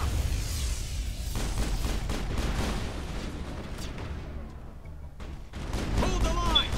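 Turrets fire in a Mass Effect battle, a dense run of sharp, rapid shots and booms that keeps going for several seconds, loud and close, with a short lull before it picks up again.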